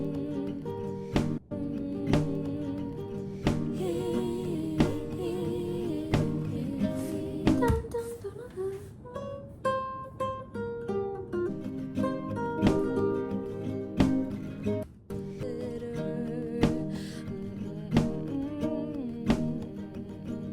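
A layered music track plays steadily, a higher melodic part placed on the right side while another part sounds on the left, with a regular beat of sharp clicks running throughout.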